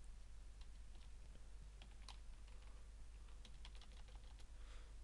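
Quiet clicking of keys on a computer keyboard while entering text in Microsoft Excel 2010, irregular taps and short bursts over a low steady background hum.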